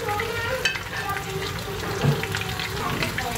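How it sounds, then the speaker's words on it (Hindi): Fish coated in spicy masala frying in oil over a medium flame, a steady close sizzle with crackles throughout, with a brief louder burst partway through. "हमारी नेक्स्ट दूसरी वाली साइड से भी फिश अच्छी तरीके से फ्राई हो चुकी है"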